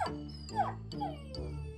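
A dog whimpering and crying in a few drawn-out, wavering whines with short pauses between them, moderately close and alone.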